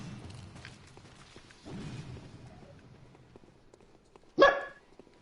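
A single loud dog bark rings out near the end, heard close by in a quiet room during a joint game stream, with soft background noise before it.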